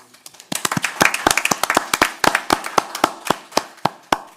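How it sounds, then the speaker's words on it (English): Scattered hand claps at a city council meeting, a few people clapping unevenly rather than a full crowd, with sharp individual smacks fading toward the end. "and we applaud all of you."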